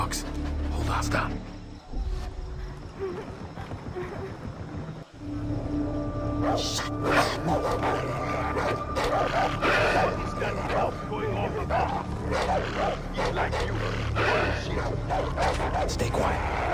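Dogs bark repeatedly in Far Cry 3, sharp yipping barks and whimpers layered over game ambience and music, fairly loud and continuous, with a voice speaking over them.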